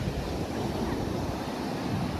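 Ocean waves wash steadily onto Tanjung Aan beach in Lombok, a continuous broadband roar of surf blended with wind buffeting the microphone, with no distinct breaks and no voices.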